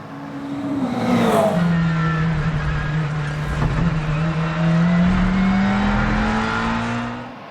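Race car lapping the Imola circuit during WEC qualifying, a loud close engine note climbing and falling through gear changes with a passing whoosh and a sustained high drone.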